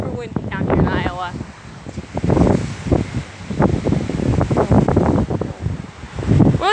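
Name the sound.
strong wind in Iowa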